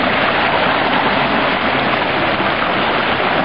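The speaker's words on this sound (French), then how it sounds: "L'eau monte." Seawater of the rising tide near the Grand B at Saint-Malo rushes steadily, a loud dense wash of surf and flowing water without pause.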